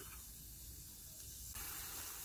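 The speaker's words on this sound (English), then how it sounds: "nice buffalo burgers in the frying pan. Yeah, sizzling away, lovely" Buffalo burgers sizzle steadily in a frying pan, a continuous close hiss and spatter that holds throughout and grows slightly brighter near the end.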